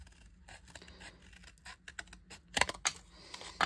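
Scissors cut a scrap of Tim Holtz Idea-ology paper to size for a junk journal, giving close, quiet snips and scratchy paper rustles that grow into a few sharper cuts near the end.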